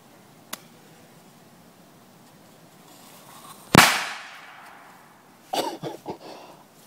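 Firecrackers blown up on an R2D2 toy: a faint pop, then one loud sharp bang with a ringing decay, followed by a quick cluster of smaller cracks.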